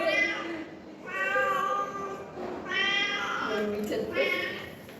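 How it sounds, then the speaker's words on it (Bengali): A cat meowing repeatedly at close range, four drawn-out cries in an uneven rhythm, loud and clear over a quiet background. "তবে ম্যাও ম্যাও করতেছে"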